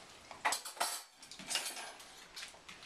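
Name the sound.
silverware clinking while unloading the dishwasher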